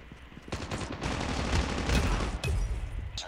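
Loud automatic gunfire in Call of Duty Mobile's free-for-all mode, with several close bursts of rapid shots cutting in and out over a few seconds.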